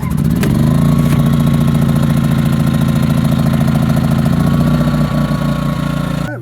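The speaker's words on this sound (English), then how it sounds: "Let's fire up the generator and open up the mine." A generator at a gold mine starts up and settles into a steady, loud, close mechanical drone, running continuously without pause.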